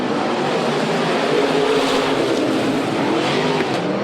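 Late model race cars roar together at Placerville Speedway just after a green flag start, a dense, continuous engine rumble with no break, loud and steady throughout.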